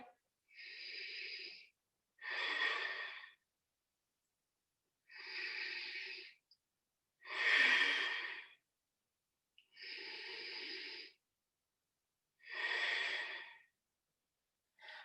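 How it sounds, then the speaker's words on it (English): Slow, deep breaths during a morning yoga practice, each inhale and exhale a soft airy rush lasting about a second, repeated in a calm steady rhythm with quiet pauses between, close and alone. "Just deep, pure breathing here."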